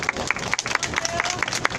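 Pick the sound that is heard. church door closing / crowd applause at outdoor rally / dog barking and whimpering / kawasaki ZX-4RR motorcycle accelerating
crowd applause at outdoor rally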